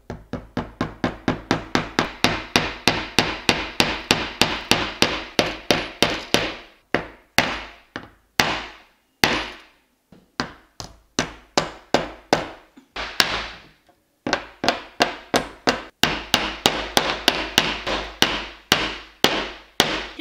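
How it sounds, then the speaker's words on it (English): A big heavy hammer strikes repeatedly while art is being framed, delivering long runs of rapid, sharp, loud blows that pause briefly and then resume, with no talking. "Now we're going to use this big fat hammer."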